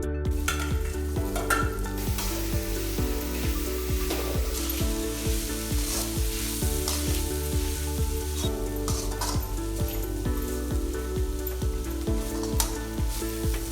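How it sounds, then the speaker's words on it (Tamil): Salted shark meat being stir-fried with onions in a kadai for sura puttu, a continuous sizzle with rhythmic scraping strokes of a spatula against the pan, steady and close throughout. "இப்போது சொராவை எடுத்து கடாயில் போட போகிறேன்."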